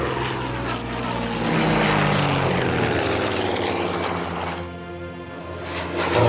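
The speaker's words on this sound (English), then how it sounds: "Oh, my aircraft got to land." Propeller aircraft in the WW2 strategy game Order of Battle, a loud steady engine drone that swells and eases slightly, with no talk.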